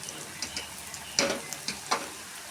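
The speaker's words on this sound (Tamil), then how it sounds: "பாருங்க, உளுந்து நல்லா பொரிஞ்சிருச்சு." Cumin seeds and urad dal frying in hot oil for a beetroot poriyal: a soft, quiet sizzle with a few brief crackles and pops spaced across the moment, heard alone.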